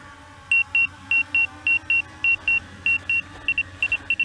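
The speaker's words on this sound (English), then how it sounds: "You hear the obstacle avoidance going off like crazy." An Autel EVO Nano+ drone sounds its obstacle avoidance warning as a rapid series of high, even beeps, quickening toward the end, over a low background hum.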